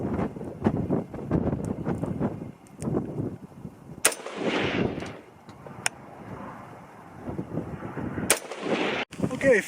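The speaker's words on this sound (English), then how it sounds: "I'm going to shoot the same order that I shot before" Rifle shots from a PSA PA-15 in .223/5.56 firing Varmageddon and VMAX varmint loads at a range target, two sharp loud cracks standing out about four seconds apart over steady wind and outdoor rumble.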